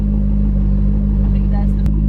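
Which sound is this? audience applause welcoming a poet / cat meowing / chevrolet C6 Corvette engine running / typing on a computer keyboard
chevrolet C6 Corvette engine running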